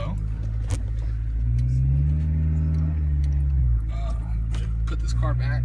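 A Honda Civic Si rolls backward under a low engine rumble that rises and swells in the middle, then eases off, heard from inside the car with someone talking over it.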